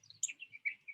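A few short, high bird chirps in quick succession, clear and close against a quiet background, from birds hopping about on the ground.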